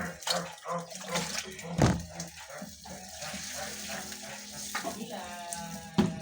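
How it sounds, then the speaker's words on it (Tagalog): Broth is poured into a hot pan of fish soup, giving a watery sizzle and bubbling with a few louder splashing bursts over a steady frying hiss, close up. "Lagyan natin ng sabaw."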